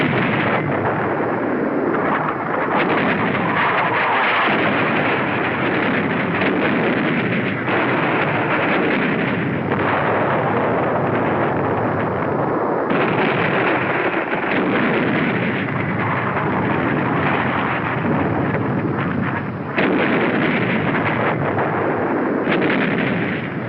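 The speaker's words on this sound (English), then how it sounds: "The Navy begins to soften up the island so we can land." Navy ships shelling Iwo Jima before the landing: a dense, continuous roar of artillery fire and explosions with repeated heavy blasts, loud and unbroken, with no speech.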